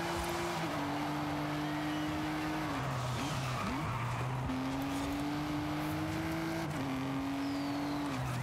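An American muscle car in Forza Horizon 5 drones steadily, and its engine pitch drops at several gear changes. Faint tire squeal comes from skidding partway through, all under a constant dense game soundscape.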